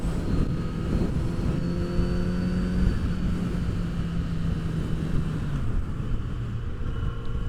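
A Kawasaki Z900 RS motorcycle is ridden at speed, giving a steady engine drone with shifting tones under heavy wind rush, continuous and close from the rider's position.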